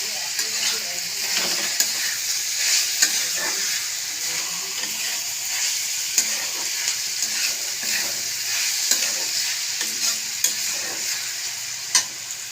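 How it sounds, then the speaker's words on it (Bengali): Chow mein being stir-fried in a heavy, thick-bottomed wok: a steady close sizzle runs throughout, with repeated scraping and tapping of the spatula against the pan. "খালি নাড়তে হবে যাতে নিচে না লেগে যায়"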